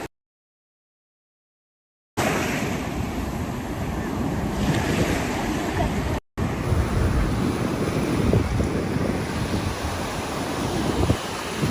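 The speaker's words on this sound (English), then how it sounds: "It is windy." Steady wind and rolling surf at a warm beach, a constant loud roar of gusts buffeting the microphone over breaking waves, briefly cutting out midway.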